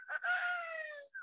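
A parrot imitates a rooster's cock-a-doodle-doo, giving one close, clear, drawn-out crow with a short trailing note at the end.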